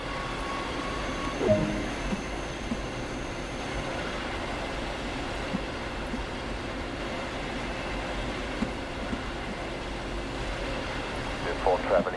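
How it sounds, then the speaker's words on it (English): Train in Train Sim World pulling away and gathering speed, a steady low rail rumble with mechanical hum throughout and a few faint clanks near the start and end, while a narrator's voice runs over it. "the train will begin to accelerate"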